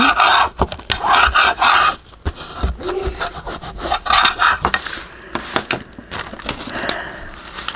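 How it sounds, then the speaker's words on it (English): Paper is burnished down with a hand tool, making loud, close, repeated rubbing and scraping strokes in uneven bursts with brief pauses between them. "let's burnish that down"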